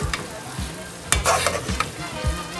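Spoon scraping and pushing rice into a mound in a pot of arroz con pollo, with a few soft scrapes over a faint sizzle.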